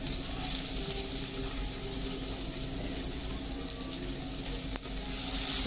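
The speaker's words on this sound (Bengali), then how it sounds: "এখন আমি পেঁয়াজ কুচিটা দিয়ে দিচ্ছি।" Chopped onion sizzles in hot oil, with mustard seeds already in the pan, for suji upma: a steady, close, bright crackling hiss that holds for several seconds, with no voices.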